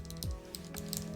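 Keystrokes on a Zoom75 mechanical keyboard, a short run of soft, muted clacks at an uneven pace, quiet and close, over a faint steady hum.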